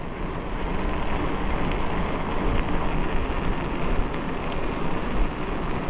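Strong wind buffets the microphone on a cold day near the seaside around Fort-Mahon, a loud continuous roar with no breaks.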